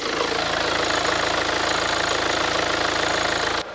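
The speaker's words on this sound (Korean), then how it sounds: "엔진 소리 그냥 디젤의 사운드만 나고 있었고요" The 2.2 diesel engine of a Kia Sorento idles steadily and loudly up close under the open hood, a continuous rough rumble with rhythmic knocking that cuts off abruptly at the end.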